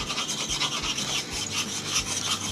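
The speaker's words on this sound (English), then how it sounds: "and you rub it right into that line, and it makes it so that you can see it easily" Soapstone rubbed firmly back and forth onto steel to mark a cutting line, a continuous close, gritty scraping with steady strokes and no voices.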